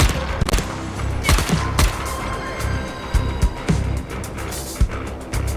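Rapid bursts of gunfire in the video game Dying Light, a dense volley of sharp shots and cracks over a rumbling, busy background.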